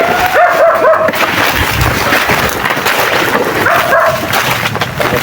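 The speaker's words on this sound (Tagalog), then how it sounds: "Nandun may mga aso tulo. Dito aso yung mga karaban natin." Dogs barking repeatedly in a noisy outdoor setting, the yips and barks overlapping with a steady background din.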